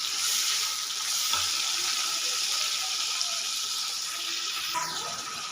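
Chicken frying in a pan gives a steady, moderate sizzle, with soft scraping and stirring noises rising now and then, and no talking.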